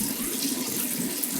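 Water runs steadily from a bathroom tap while someone wets their face before shaving. It is a continuous, even splashing hiss, close and moderately loud, with no talking.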